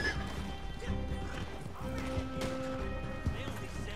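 Galloping hoofbeats clatter with a horse's whinny mixed in, from the video game Red Dead Online, while people talk over the game sounds.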